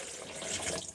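Water being poured into a cup of blueberries for a drink, a brief close, steady splashing stream lasting about a second, alone without talk.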